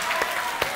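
A church congregation applauds its visitors during a morning service, a short burst of steady clapping heard from across the room, with a couple of sharper claps standing out.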